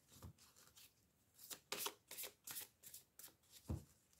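A deck of oracle cards is shuffled in a series of crisp riffling bursts with short pauses between them, close and fairly quiet, with no one speaking.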